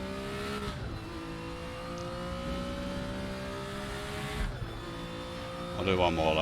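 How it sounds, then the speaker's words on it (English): BMW M1 Procar in Raceroom sim racing, its engine droning steadily with quick throttle blips on downshifts and a sharper rev burst near the end, all under a voice. "give it a little courtesy tap of the throttle coming down through the gears"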